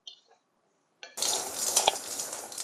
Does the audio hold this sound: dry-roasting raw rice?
yes